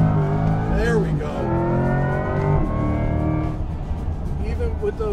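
A Corvette E-Ray hybrid sports car with a 500 horsepower V8 and AWD accelerates hard, its engine note rising in pitch through gears from inside the cabin, with a person talking over it.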